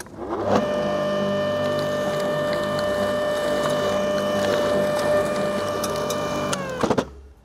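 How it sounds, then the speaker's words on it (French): An electric lawn scarifier runs steadily as it rakes a lawn, a loud, even motor whine with metallic tones that stops abruptly near the end with a few clunks. "l'idéal c'est d'avoir aussi un scarificateur électrique"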